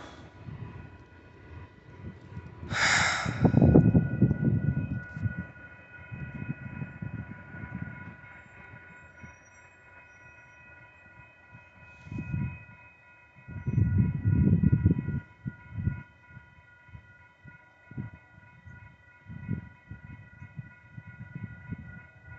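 A BNSF local freight train rumbles by at moderate distance in bursts of low rumble, with a brief high horn-like tone near the start and steady faint tones throughout.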